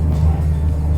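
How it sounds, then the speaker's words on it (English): A low, steady rotor rumble of a helicopter passing overhead, continuous and moderately loud, with no voices. "Excuse the helicopter going over."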